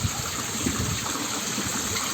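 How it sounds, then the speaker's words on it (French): A large village fountain runs with a steady, close rush of splashing water, constant and unbroken with no voices. "Puis il y a une grosse fontaine là."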